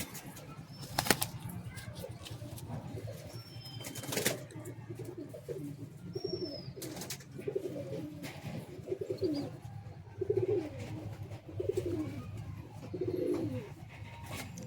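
Pigeons in a loft coo in repeated soft, throaty phrases that grow clearer toward the end, with occasional sharp wing flaps and bursts of fluttering among the birds, heard close by with no talk.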